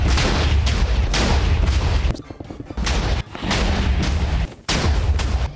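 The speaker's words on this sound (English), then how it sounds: "Gone by a TNT cannon" Rapid booming blasts from a TNT cannon in Minecraft fire in dense, loud bursts, with two brief pauses where the barrage drops away before resuming.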